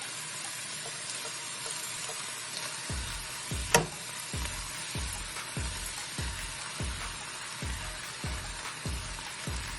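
Hakka noodles dropped into a hot pan over a low flame, a sudden loud sizzle after a short quiet start, then steady frying hiss with regular scraping strokes of stirring, close up with no talking.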